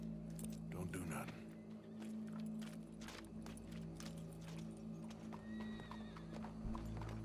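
Horse in the video game Red Dead Redemption 2, hooves clip-clopping in a steady rhythm with a whinny near the start, set against a low ambient drone and faint background voices.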